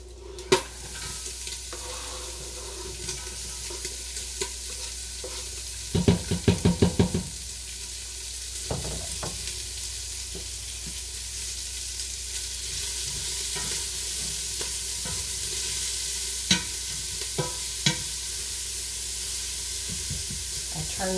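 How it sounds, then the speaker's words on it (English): Onions sweating in a pan for a copycat Zuppa Toscana give a steady, even sizzle throughout, with a short burst of utensil clatter partway through and a few faint knocks. "we're going to add some onions in here to start sweating them"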